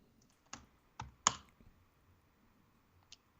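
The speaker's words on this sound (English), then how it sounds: "now just type in code space period." A command typed on a computer keyboard, a few sparse, quiet key clicks with short gaps between them in an otherwise quiet room.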